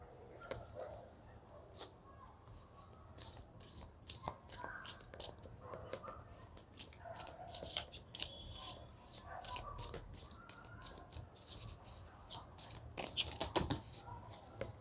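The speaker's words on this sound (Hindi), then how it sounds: "बहुत ज़्यादा कार्ड्स गिर गए, मैं वापस शफल करूँगी।" Tarot cards shuffled by hand in quick, repeated riffling bursts, close and crisp over a soft background hum, with a faint voice briefly in the background.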